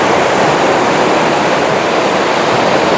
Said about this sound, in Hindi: ये पहाड़ी नदी है जो मैं आपको पहले पहाड़ बताया था